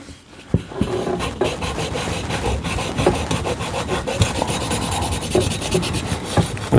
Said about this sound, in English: I'm going to get a red Scotch-Brite pad and try to get down in there a little better